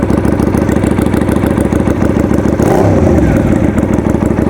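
A retro Benda 250 motorcycle engine idles up close with a loud, steady, thumping rhythm, then gives a brief rising rev partway through before settling back into its even idle.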